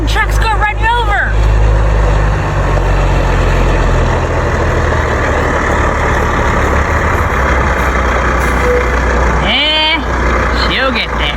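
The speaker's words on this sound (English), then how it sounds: "Big truck's gonna run you over." A big truck rolls by with a loud, low engine drone and rumble that fills the whole stretch. Voices break in at the start and again near the end.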